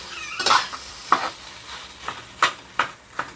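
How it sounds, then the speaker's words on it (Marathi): A large slotted spoon stirs a thick vada batter for Mahashivratri fritters, making about six distinct scraping, slapping strokes at an uneven rhythm, close and fairly loud with quiet pauses between. "झाऱ्या घ्यावा मोठा, म्हणजे छान हलवता येईल"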